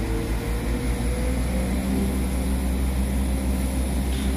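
A train departs Carrickfergus station for Whitehead with a steady, loud low-pitched engine drone that holds constant throughout, close by and without talk.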